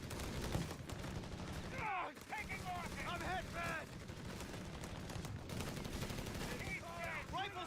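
Close-range firefight in Company of Heroes 3, with Riflemen and MP40-armed infantry shooting right on top of each other. Dense, constant rifle and submachine-gun fire rattles throughout, and chirpy in-game unit callouts break through over the shooting.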